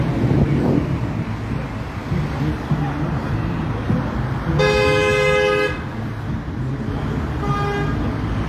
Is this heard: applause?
no